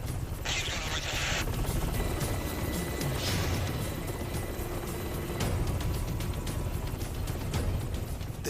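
A military combat rescue helicopter in flight, its rotor and engine forming a dense, steady roar that fills the whole stretch with no letup.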